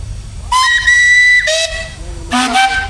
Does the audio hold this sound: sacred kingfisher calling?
no